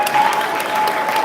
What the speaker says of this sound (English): A clap for me, please.